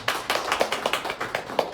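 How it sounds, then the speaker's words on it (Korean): Brief rhythmic clapping from a Korean church congregation, a quick, fairly close series of sharp, evenly spaced claps in unison with no voices. "여러분 박수 쳐주세요."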